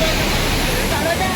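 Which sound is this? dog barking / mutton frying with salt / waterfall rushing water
waterfall rushing water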